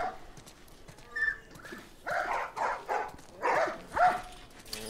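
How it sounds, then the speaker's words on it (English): Dogs in the video game The Last of Us bark and whine in a series of short, bright yelps, about six bursts in a loose rhythm over faint background ambience. "I hear dogs."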